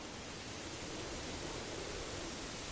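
Steady, dense rush of falling water from a waterfall in the Black Myth Wukong video game, a constant full-band roar that holds even and unbroken throughout with no voices.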